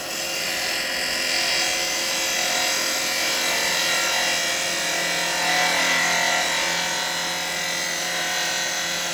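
Wood turning on a lathe with a spindle gouge, cutting beads into a piece from a biggish tree; a steady, close, loud whirring hiss of the cut runs unbroken throughout.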